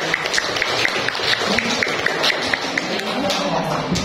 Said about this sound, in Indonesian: silakan beri tepuk tangan untuk kelompok 2